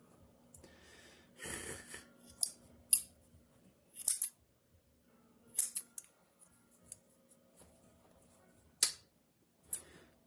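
Leather being trimmed and tapered with scissors while making a briefcase: irregular crisp snips and cutting rasps, some in quick clusters, others spaced apart, close up in a quiet room.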